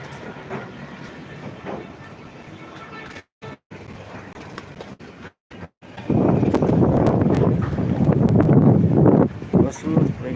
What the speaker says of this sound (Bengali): দেখেন বাতাস দেখেন দেখেন